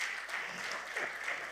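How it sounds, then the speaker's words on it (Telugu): Audience applause at a movie pre-release event, a steady moderate wash of clapping heard from a distance, with no talk over it. "అందరం గట్టిగా చప్పట్లు కొడదామా?"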